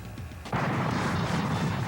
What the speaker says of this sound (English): Black Rose features a cannon under the playfield. It's fired with the red button on the lockdown.